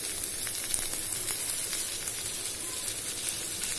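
Small onions, tomatoes and curry leaves sautéing in a pan for a brinjal and dried-fish thokku: a steady, even sizzle and hiss, moderately quiet and continuous, with no voices over it.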